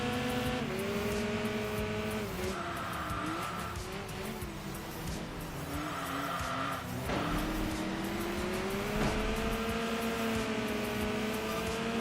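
A Dodge Viper race car in the racing game Enthusia Professional Racing passes by, its engine pitch rising and falling over steady engine drone and faint tire squeal, with no voices.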